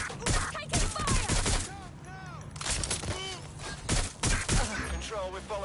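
Rapid bursts of gunfire crackle through a PS4 police pursuit game, loud and close, in repeated volleys mixed with game effects, while voices talk over the shooting.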